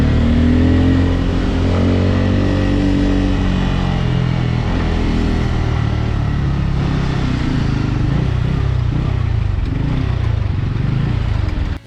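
A Bajaj Pulsar N250 motorcycle accelerating, its engine note sweeping upward in rising revs, close and loud, with no talking.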